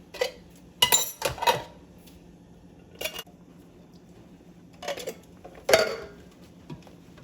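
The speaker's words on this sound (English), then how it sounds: "So I'm just gonna mix this up" Green beans stirred in a metal pot give scattered clanks and scrapes of a spoon against the pot. The sharp clinks come in irregular bursts with quiet gaps between them, close and clear over a faint background hum.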